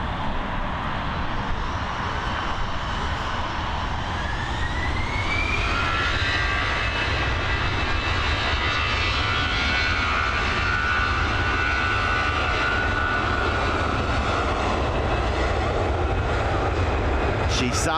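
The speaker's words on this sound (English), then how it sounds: "sounds like a 23-year-old aircraft as well." A roughly 23-year-old jet airliner departing Dublin Airport for Malaga, its engines a loud, continuous roar with a rising whine that climbs midway and holds steady, with voices faintly underneath.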